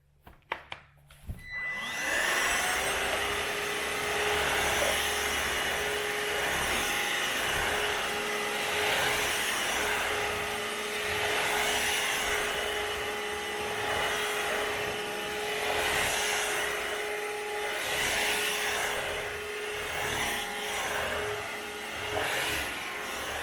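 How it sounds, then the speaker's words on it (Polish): An ILIFE F100 robot mop vacuum cleaner running on a floor starts with a few clicks, then settles into a steady, loud motor whine with a fixed tonal hum and brushy whooshing that swells and fades. "mop odkurzacz"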